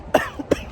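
Two short, harsh coughs close by, a brief pause between them.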